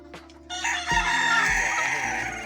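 A rooster crows loudly and close by, a long drawn-out call lasting a couple of seconds, after a short cluck.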